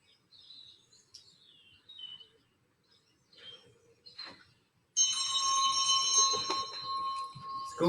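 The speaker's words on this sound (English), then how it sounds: "School bell's gone." An electric school bell rings loudly and continuously for the last three seconds, after a quieter stretch of scattered high chirps and brief tones.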